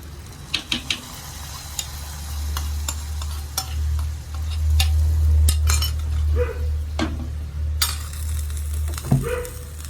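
Hot tempering poured into a tomato and cucumber coconut curry, a brief swelling sizzle amid scattered clinks of a metal spoon and pan, no talking.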